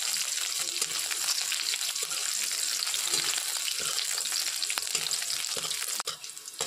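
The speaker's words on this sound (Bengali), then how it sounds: "রসুনটা ভেজে নেব" Garlic and green chilies fry in hot oil that has just been used for dried red chilies, giving a loud, dense, continuous sizzle that dips briefly near the end.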